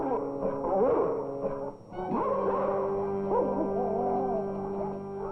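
Guard dogs in obedience training, barking and yelping close by in rough bursts, with whimpering yips between the louder barks.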